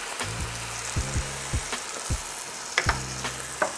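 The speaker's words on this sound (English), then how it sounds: "Next, we're going in with 14 ounces of crushed tomatoes." Crushed tomatoes poured into a sizzling spice paste for butter chicken and stirred, a continuous close frying hiss broken by repeated scraping strokes of the spoon against the pan.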